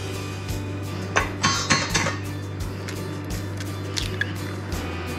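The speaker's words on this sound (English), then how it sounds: "mix these eggs and molasses and brown sugar together until it's looking well mixed and kind of creamy" Eggs, molasses and brown sugar being mixed in a bowl for a 1925-style sweet potato pone: a spoon or whisk scrapes and clinks against the bowl in scattered strokes, close and moderate, over a steady low hum.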